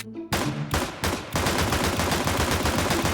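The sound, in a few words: pistol gunshots in video game Counter-Strike 2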